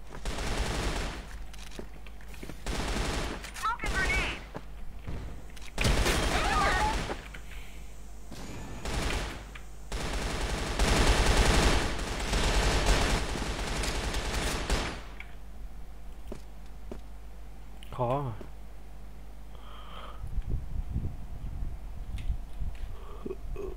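Video game gunfire crackles in dense, continuous automatic bursts for about fifteen seconds, then thins to scattered quieter shots and noises.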